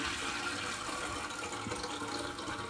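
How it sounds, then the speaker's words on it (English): Water rushes steadily into a toilet tank refilling after the supply valve is turned back on, a continuous hissing flow that stays even and close throughout with no break. "Now we're ready to turn the water back on. So let's just turn it counterclockwise. You can hear it starting to fill up."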